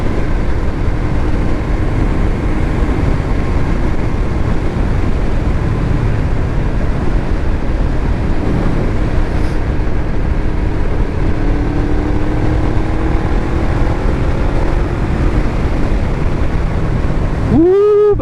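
A big motorcycle accelerates along an open road, with a continuous low engine rumble and rushing wind noise that stays heavy throughout, plus a brief rising tone near the end; no speech.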